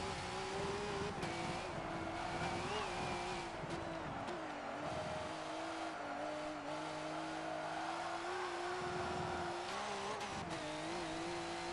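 A Nissan Altima V8 Supercar races in Forza 7 at Rio de Janeiro, its engine droning loud and steady with rising and falling revs through gear changes, plus brief tire squeals, continuous throughout with no talk.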